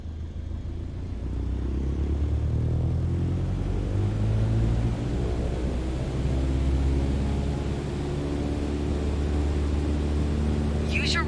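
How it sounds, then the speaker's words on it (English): A simulated light aircraft's engine roars steadily at full power through the takeoff roll in Flight Simulator 2020, a broad droning rumble rising slightly and holding for about eleven seconds with no talk. "Apply full power and I'll walk you through the takeoff as we go."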